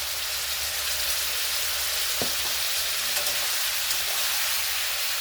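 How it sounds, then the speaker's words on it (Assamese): Mutton pieces fry with salt and turmeric in hot oil, giving a dense, even sizzle throughout, with a few faint clicks of stirring under the continuous crackling hiss. "আৰু এতিয়া মই নিমখ হালধিৰে মাংসখিনি অলপ ফ্ৰাই কৰি ল'ম।"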